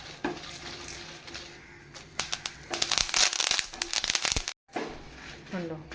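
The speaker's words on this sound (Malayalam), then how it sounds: "പിന്നെ 2 തണ്ട് കറിവേപ്പില കൂടി ചേർക്കണം." Curry leaves dropped into hot coconut oil for Mangalore-style chicken sukka, giving a burst of sharp crackling and sputtering that swells midway and then settles, with a brief cut and clinks of a pan, under quiet kitchen ambience.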